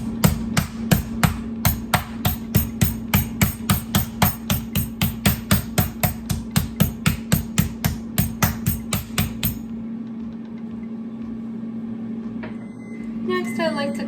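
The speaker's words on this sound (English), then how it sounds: "Tenderize." Meat tenderizer pounding chicken thighs on a board, a steady rapid run of about thirty loud thuds over a constant background hum, stopping abruptly before a few softer handling knocks.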